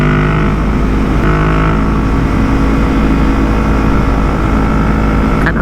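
A Yamaha MT-03 motorcycle with a full Akrapovic exhaust roars loudly and steadily up close, a deep continuous engine drone holding at high revs throughout.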